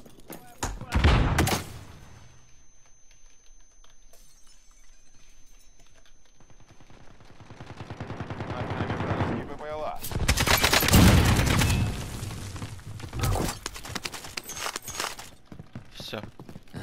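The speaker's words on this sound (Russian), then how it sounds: "По нам стреляют." Gunfire in the video game Call of Duty Warzone comes as a few loud bursts, an early sharp volley then a heavier, denser barrage near the middle, with quieter stretches between and some voice activity mixed in.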